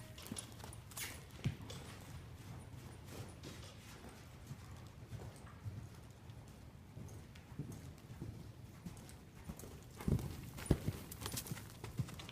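A horse cantering in an equine training setting, its hooves giving soft rhythmic thuds on the ground, fairly distant and quiet, with a few louder steps near the end.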